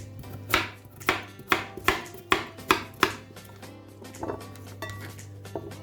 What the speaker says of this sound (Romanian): am să tai legumele. Mai mari pentru a face un pad de legume.